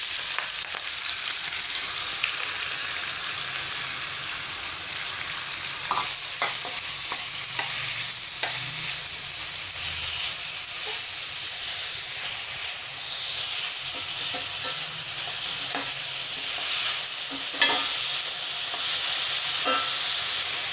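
Finely chopped onion sizzles in hot oil with curry leaves and green chilli for kanda batata poha, a steady loud hiss broken by intermittent stirring scrapes in the pan.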